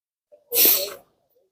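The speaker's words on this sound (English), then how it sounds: "I don't know what is that and make me sneeze." A single sharp, close sneeze preceded by a quick intake of breath, then silence.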